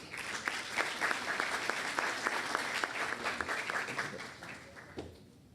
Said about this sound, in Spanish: Por favor, reiteramos los aplausos